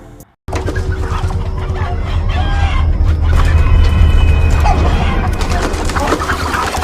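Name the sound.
chickens clucking in a coop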